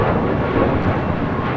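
An Alaska Airlines Boeing 737 MAX 9 takes off at LAX with a loud, steady broadband engine roar and rumble, with no speech.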